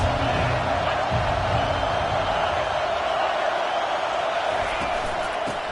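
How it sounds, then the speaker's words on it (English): A packed football stadium crowd roars steadily during a Florida vs Michigan game, a dense, loud wall of cheering and noise that never lets up, with an announcer talking over it. "This crowd trying to make life miserable for this offense."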